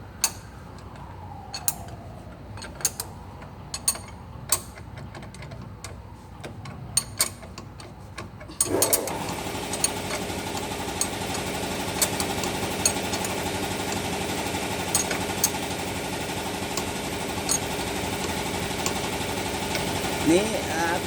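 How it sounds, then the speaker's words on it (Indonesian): Air compressor running continuously while its air is in use during engine work, a steady mechanical drone that jumps louder and denser partway through, with sharp ticks and clicks scattered over it and people talking nearby. "tukang kompresor bunyi terus, soalnya lagi dipakai anginnya"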